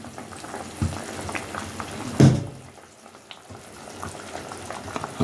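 Vegetables boiling down in a pot for Jamaican cooking, giving a steady, close bubbling and simmering hiss with a louder clunk partway through.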